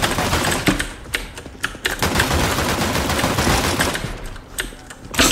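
Rapid gunfire from Counter-Strike: Global Offensive rattles loud and dense, with sharp cracks standing out over a continuous clattering bed of game noise and keyboard clicks.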